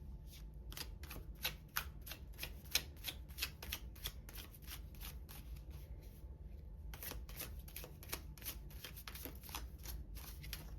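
Tarot cards being shuffled by hand, a rapid series of crisp riffling flicks and slaps repeated in bursts, close and fairly quiet, with a short pause in the middle and no talk.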